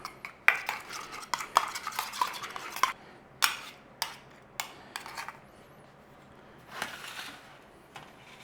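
Butter and olive oil being mixed in a bowl with a utensil, a series of sharp scraping clinks in quick bursts, then a pause and a few more strokes, close and fairly quiet.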